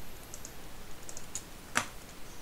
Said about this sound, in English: You can probably hear the keyboard.